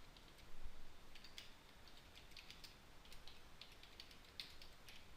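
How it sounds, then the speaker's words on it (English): Quiet typing on a computer keyboard as a short greeting is entered into a Notepad document, with irregular soft key clicks spread across several seconds over a faint background hiss. "I'm going to type in hello from UltraWeb."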